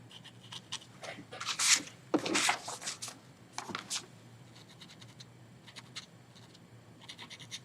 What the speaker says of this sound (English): I am scrubbing, but scrubbing it with shaping it.